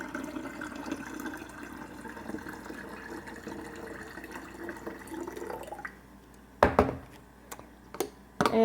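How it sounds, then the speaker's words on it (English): Warm water is poured steadily into a half-gallon jar, a continuous splashing fill with a rising tone, ending abruptly and followed by a few sharp clinks and knocks. "now I'm going to pour in my warmed up water"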